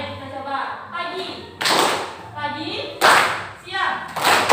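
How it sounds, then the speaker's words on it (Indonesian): A class of pupils claps together in a clapping game, with loud group bursts of applause between stretches of a teacher's voice. "Kalau Ibu sebut siang, tepuk tangannya 2 kali."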